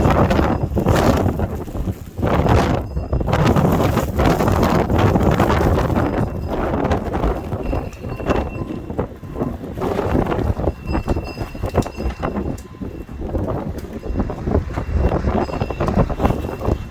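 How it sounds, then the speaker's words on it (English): Steady gusting wind roars across a snow-covered outdoor patio while snow blows sideways, with loud buffeting and rumble on the microphone lasting throughout. "It is windy. The snow is going at like 45 degrees sideways."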